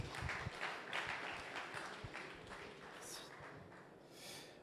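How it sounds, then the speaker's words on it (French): Audience applause following conference presentations, a steady wash of many hands clapping at moderate distance that fades gradually, with faint low thumps mixed in. "S'il n'y a pas d'autres questions, on va les applaudir."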